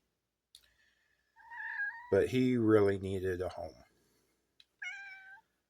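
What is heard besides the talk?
cat meowing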